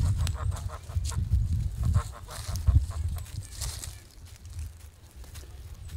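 Sebastopol geese honk repeatedly in loud, close bursts over a farmyard background, the calls overlapping irregularly before easing off toward the end.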